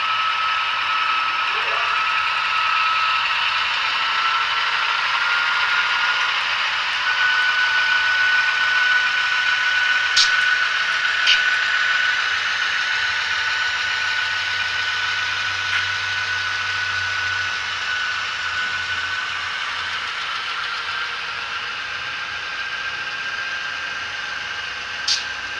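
A steady mechanical drone of small model diesel locomotives with Tsunami sound decoders pulling a train of about twenty cars up a grade, humming continuously, with a faint whine and occasional light clicks, fairly loud and unbroken.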